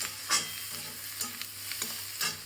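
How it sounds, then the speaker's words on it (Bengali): Chicken pieces frying in a pan for honey chicken give a steady close sizzle, broken by a few sharp stirring scrapes and knocks spaced through it, with no talk. "ভালো ফ্রাই হয়ে গেছে"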